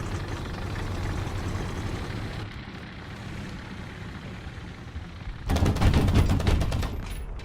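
Italian reserve autocannons fire in War Thunder tank combat, a dense rapid burst of shots up close with heavy rumbling underneath, the loudest stretch in the final two seconds.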